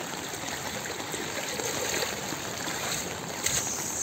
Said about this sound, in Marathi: हे बघा इकडनं पाणी येत आहे आणि हे इकडे जाते पाणी.